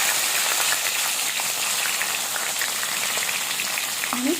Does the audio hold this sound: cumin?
yes